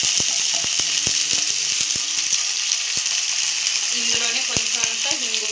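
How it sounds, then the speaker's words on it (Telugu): Ingredients, including curry leaves, sizzle and fry in a pan for sesame pulusu, a steady loud hiss with sharp clicking taps and scraping from stirring scattered throughout, close and without talk. "ఇదైతే వేగనిద్దామండి. ఇగుండి కొంచెం వేగింది కదండి."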